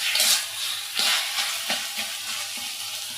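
Curry frying and being stirred in a pan, a steady close sizzle broken by a few rhythmic scrapes of the spoon, with no voices.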